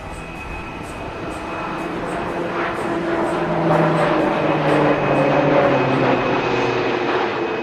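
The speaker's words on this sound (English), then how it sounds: "the pilot will start a loop and go through the first half" Aerobatic jet flying a loop during a horizontal-eight manoeuvre at the Aero India air show, a steady distant roar with engine tones that sweep and shift in pitch as the aircraft climbs and dives, continuous and fairly loud.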